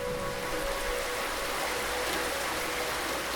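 Rain falling over a muddy music festival ground on an island, a steady, even hiss of rainfall throughout with no other sounds.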